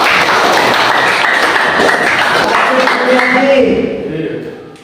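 Students in a classroom give a short burst of clapping, fairly close and loud, fading out over the last second as a voice speaks underneath.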